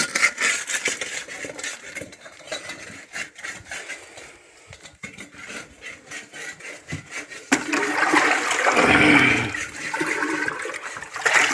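A metal cooking pot is washed, with irregular clanks and scrapes of metal followed by a louder, sustained rush of pouring, splashing water nearby.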